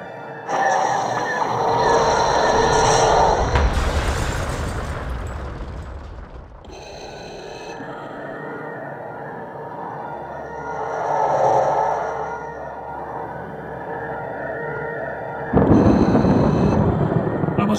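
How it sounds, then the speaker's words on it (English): Explosion in the Star Wars Clone Wars video game: a loud, dense blast around the four-second mark rumbles and decays, set among continuous engine drone and game effects, with another heavy burst near the end. "I must have gotten too close to the explosion."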